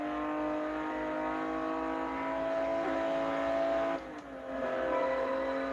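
McLaren F1 car in Forza Motorsport 4 on Xbox 360, a sustained high engine drone holding steady at speed with a brief dip and recovery near the end, loud and continuous with no talk.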